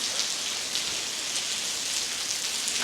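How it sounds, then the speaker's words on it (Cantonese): Heavy rain pours down outside a railway museum, a loud, continuous hiss of dense drops with no voices over it. "因為好大雨啊而家"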